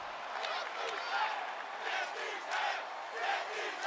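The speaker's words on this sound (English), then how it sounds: "As the crowd chants, get these hands clearly behind the tag team champion Braun Strowman" Wrestling arena crowd chanting in steady rolling surges, a dense continuous roar of many voices filling the hall with rhythmic swells, heard alone without commentary.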